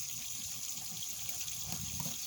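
Tap water runs steadily over a freshly cleaned bluegill fish for a first rinse, a continuous close splashing hiss with no talk.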